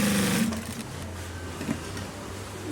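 A sewing machine stitching a collar onto a polo shirt runs in a steady mechanical whir close by, with a faint click partway through and no speech.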